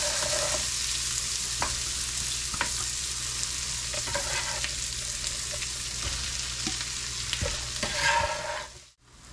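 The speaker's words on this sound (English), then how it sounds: "while you guys have your bacon, your onions, your garlic, and your mushrooms sauteing" Bacon, onions, garlic and mushrooms sauté in a pan with a steady close sizzle, broken by scattered stirring scrapes and clicks, before a sudden brief cut near the end.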